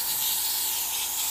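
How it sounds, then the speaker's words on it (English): Continuous close hiss of a spray bottle misting isopropyl alcohol and water onto an airbrushed painting, steady and unbroken for the whole brief moment. "I'm going to spray some isopropyl alcohol and water on this"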